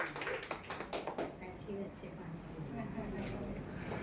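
Studio audience applause breaks out, a dense patter of many hands clapping that starts strong and carries on steadily with a mix of voices underneath.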